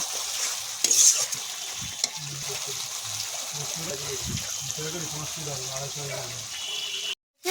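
Spice masala frying in hot oil while being stirred for a cauliflower and potato fish curry, a steady soft sizzle with scraping strokes and occasional knocks throughout, ending abruptly.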